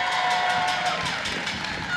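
An audience at a White House event claps and cheers in welcome for new interns, a steady wash of applause with muffled cheering filling the room.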